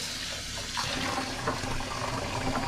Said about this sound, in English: Wash your dishes